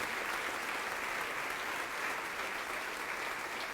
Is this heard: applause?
yes